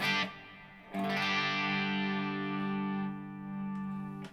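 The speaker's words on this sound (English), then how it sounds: "you can hear that it's giving it a kind of chorusy effect" A sustained electric guitar chord through a NUX Mod Verb pedal shimmers with a wavering chorus effect, briefly cut off and then restruck, ringing on alone.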